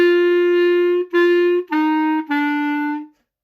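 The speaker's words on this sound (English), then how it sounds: "here's the second clarinet part at the beginning" A lone clarinet plays the opening of a beginner second clarinet part, four sustained notes in a slow, smooth line, close and clear with no talking before it fades to silence.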